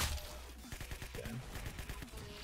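Rapid bursts of gunfire in the Roblox shooter Arsenal, a dense string of sharp, evenly spaced shots, fairly quiet overall and heard without talking.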